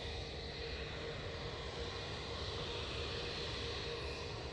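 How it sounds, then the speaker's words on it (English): A Lufthansa Airbus A320neo arrives from Munich at Manchester Airport, its engines a steady, broad roar held at an even level throughout, with no voices. "we've got a Lufthansa A320neo coming in from Munich"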